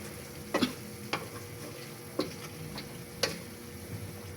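Pork adobo with potato being stirred in a pan: a soft, low sizzle runs throughout while a spatula knocks against the pan four or five times at uneven intervals.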